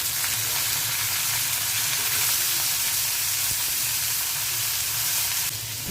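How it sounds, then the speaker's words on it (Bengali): Eggplant, potato and onion fry with spices in a hot pan, giving a steady, loud sizzle and hiss throughout without a break. "এখন ভালো করে ভেজে নিচ্ছি।"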